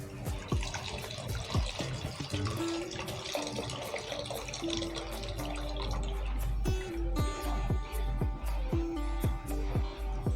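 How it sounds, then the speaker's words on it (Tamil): Tamarind solution is poured into a cooking pan for a tamarind kuzhambu with cluster beans, a steady splashing liquid stream close by, with clinks and knocks of utensils over a low hum. "இந்த புளி கரைசலையும் அதில் ஊற்றிடலாம்."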